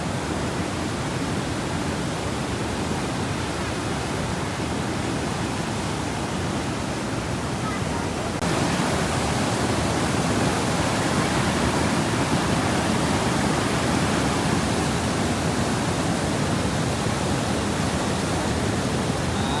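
Steady, dense rush of flowing water, like a broad spill over a low weir, continuous and fairly loud for the whole stretch with no voices.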